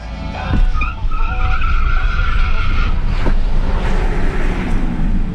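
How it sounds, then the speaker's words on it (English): A car burnout at a drag strip, tires spinning with a loud, sustained squealing screech over a roaring engine, close and harsh, with wind buffeting the microphone. "I'm gonna do a burnout this time"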